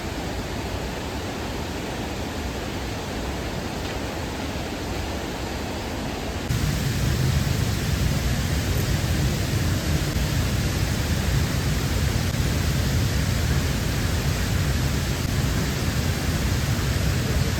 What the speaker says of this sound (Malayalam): നിസ്സാരം ഒരു സാധാ വെള്ളച്ചാട്ടമാണിത്.